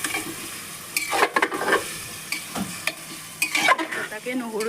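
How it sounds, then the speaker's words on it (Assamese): Goat meat fries in a pan with a steady sizzle, broken by several loud scrapes and clatters of a spatula stirring the pieces close by. "মাংসখিনি আমি এতিয়া আধা ঘণ্টামান ভাজিম।"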